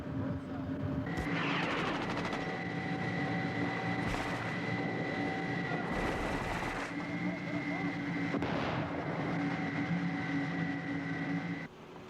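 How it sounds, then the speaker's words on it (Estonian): Gunfire in a war documentary set in Afghanistan: a few sharp, loud bursts go off over a droning vehicle or aircraft engine while someone shouts. "Eespool tulistatakse!"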